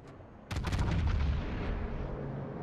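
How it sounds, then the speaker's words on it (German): Battleship main-gun salvo in the naval game World of Warships, aboard a Yamato, a single sudden booming blast with a rolling rumble that decays slowly under steady ambient noise. "Der erste Schuss war hier super"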